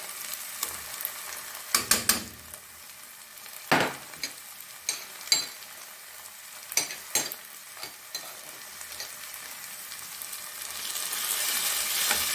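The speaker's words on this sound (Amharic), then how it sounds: "ቶማት ጨምራለሁ።" Tomatoes frying in a pot with a steady sizzle, broken by several sharp spoon scrapes and stirring knocks. The frying swells louder toward the end, and no one speaks.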